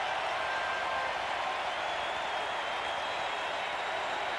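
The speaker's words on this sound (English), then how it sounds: "they applauded long and loud last night for this fella, and they're doing it again" Ballpark crowd at the 1991 World Series Game 7 between the Minnesota Twins and Atlanta Braves applauding Kirby Puckett, a dense, sustained roar of clapping and cheering that fills the whole stretch without letting up.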